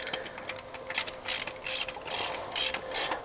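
A ratchet wrench turns a 19mm socket on a square-body truck, its rapid pawl clicking arriving in about eight short bursts separated by brief pauses, close and clear with no talking.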